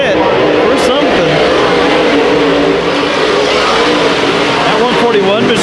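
Race cars in a heat race at Antioch Speedway roar continuously and loudly, engines overlapping as they run close together down the front straightaway, with a commentator talking over the noise throughout.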